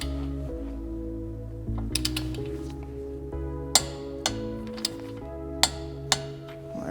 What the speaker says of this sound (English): go to your 30 foot-pounds and then tighten until you get the next cotter pin hole to go through